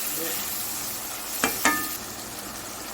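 Eggplant and dried fish fry in hot oil with a soft, constant sizzle, marked by two sharp clinks or stirs of a utensil against the pan.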